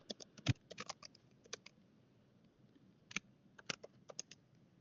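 Code is typed on a computer keyboard in quick, uneven bursts of light key clicks, close and fairly quiet, with a short pause in the middle before the tapping resumes.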